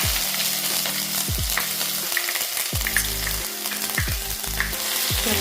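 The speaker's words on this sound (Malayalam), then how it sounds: "വെളുത്തുള്ളി, പച്ചമുളക് പേസ്റ്റ് ഇട്ട് കൊടുക്കാം" A paste of crushed ginger, garlic and green chili sizzles loudly in hot oil, a steady close frying hiss broken by the repeated scrape of a spoon stirring through the pan.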